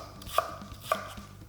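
A knife thinly slices onion on a cutting board for a Filipino sinuglaw, giving two distinct crisp cuts with faint light taps between them, close and clear with no voice.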